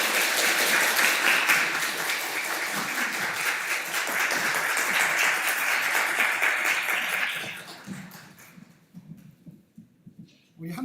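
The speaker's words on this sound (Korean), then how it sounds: "한번 박수 주시기 바랍니다." Church congregation applauds during a New Year Sunday service, steady dense clapping from many hands for several seconds that tapers off into scattered claps and quiet near the end.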